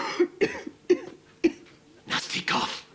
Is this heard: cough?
yes